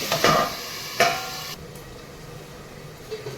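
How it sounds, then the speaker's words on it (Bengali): Spiced water goes into a Bengali singi fish and fig curry and is stirred. Two sharp spoon clatters against the pot come first, then a soft, quiet simmer remains. "এই জলটা আমি ঢেলে দেবো একটু মারিয়ে নেবো"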